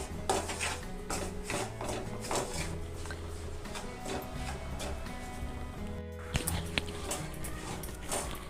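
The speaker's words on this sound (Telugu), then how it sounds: "1 కప్ బాంబే రవ్వ వేసుకొని వేయించుకోవాలి." Bombay rava (semolina) dry-roasts on low flame while a utensil scrapes and clinks against the pan in a busy, repeated rhythm. A low steady hum sits underneath, close and moderately loud.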